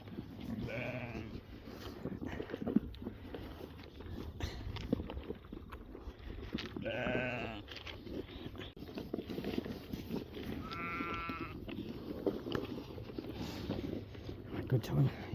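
New Zealand shedding sheep on a farm in April, with mating harnesses fitted, give several distinct bleats over about fifteen seconds, moderately near, amid steady outdoor background noise with talking in places.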